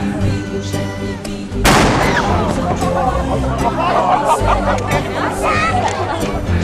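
A ship's cannon on a European visit fires with a sudden loud boom, followed by a rumbling decay under a crowd's chatter and cheering, with people talking throughout.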